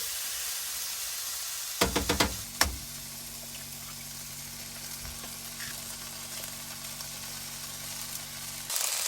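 Eggs cracked into a hot camp oven with mushrooms at a free campsite, several sharp knocks and splats, then a steady close sizzle that runs on and swells again at the end.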